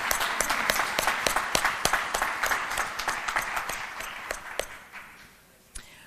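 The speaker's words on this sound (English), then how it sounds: "I think we need to give another round of applause for that video." A gala audience claps in a synagogue hall, a loose, moderately loud round of applause with distinct individual claps that gradually thins and fades out, leaving a few last scattered claps.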